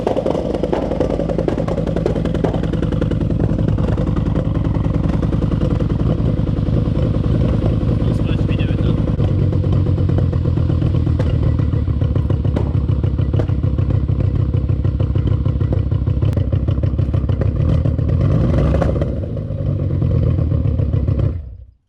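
A tuned Audi RS6 engine, making 1000 newton-metres, runs rough as if firing on only a couple of cylinders, with a loud, continuous uneven idle full of thumps and clatter and voices talking over it.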